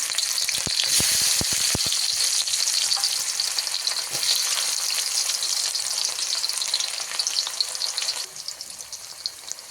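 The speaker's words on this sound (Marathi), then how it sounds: "कांदा चांगला परतून घेऊया आपण." Onion with garlic and ginger sautés in hot oil for a spiced vegetable dish, a loud, continuous crackling sizzle with a brief burst of sharp spatters near the start that eases slightly toward the end.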